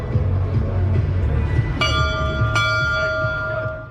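A bell-like chime rings twice in quick succession, bright and sustained, over a murmuring crowd at a Dallas Cowboys fan gathering.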